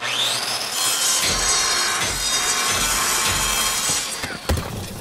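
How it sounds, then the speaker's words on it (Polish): In the game Call of Duty: Modern Warfare, a saw cuts through rubble with a loud, continuous rasping grind that stays steady before ending in a brief clunk. "Zajebista piła!"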